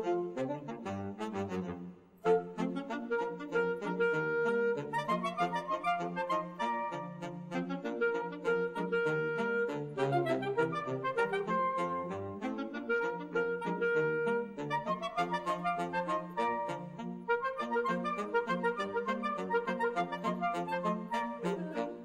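Scott Joplin's ragtime theme from The Sting plays on piano, a bouncy syncopated melody over a steady oom-pah bass, continuous and fairly loud, with a brief dip near the start and no voices.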